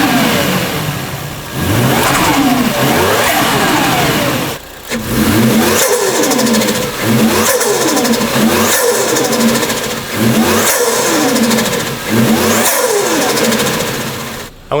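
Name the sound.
Toyota Chaser JZX100 engine running with new HKS intake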